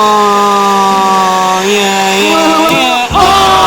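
A loud, steady high-pitched motor whine of a power drill running continuously on a Nissan 350Z, its pitch shifting slightly before a brief dip near the end.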